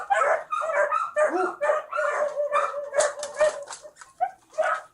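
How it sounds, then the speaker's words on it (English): Several dogs in a kitchen bark and yip in rapid, overlapping bursts, fairly close and sharp, with a few higher whimpers mixed in and no talking. "There's dogs in there."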